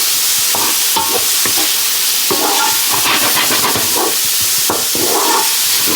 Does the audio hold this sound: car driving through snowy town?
no